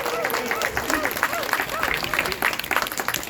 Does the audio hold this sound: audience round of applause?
yes